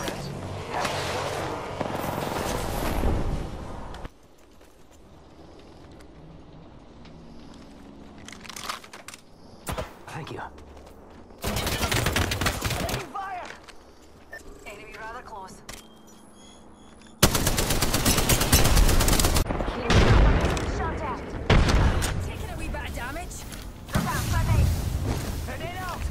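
Video-game gunfire rattles out in several loud, dense bursts of rapid shots, separated by quieter gaps where players talk.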